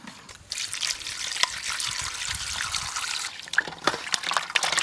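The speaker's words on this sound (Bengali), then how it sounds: "যাই মাছগুলা ধুই গা, এই জল দিয়ে দিবে।" Water poured and trickling while fish caught from fishing are washed, a steady splashing dribble into a vessel with a few louder drips and splashes, continuous and close, no talk.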